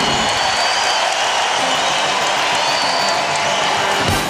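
Crowd at a Rainbow Wahine women's college volleyball match in Hawaii cheering and applauding, a dense, continuous roar of clapping and voices filling the arena without a break.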